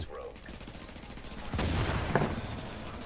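Weapons fire in the video game The Division, heard as rapid bursts of shots that build to a dense volley partway through, with game effects layered around them.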